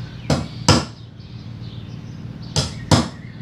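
Chisel cutting into wood while trimming rough gauge lines on a homemade spice rack: four sharp, close knocks in two pairs, each pair quick, with a quiet stretch in between.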